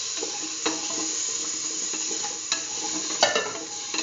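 Tomato paste being stirred into a lentil pumpkin stew in a pot: soft wet sloshing and bubbling with occasional spoon scrapes and knocks against the pot, close and continuous.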